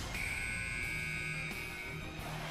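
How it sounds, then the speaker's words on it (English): A basketball game buzzer from the anime Kuroko no Basket, during the Kaijo vs Fukuda match, sounds as a steady, sustained electronic tone that cuts off after about two seconds. "Buzzer."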